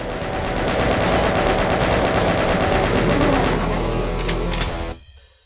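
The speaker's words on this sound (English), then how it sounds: "thankfully the chain gun deals with them pretty well." Chain gun fire in Doom II in a cramped room against shotgunners and a cacodemon, a loud, rapid, unbroken stream of shots lasting about five seconds before cutting off abruptly.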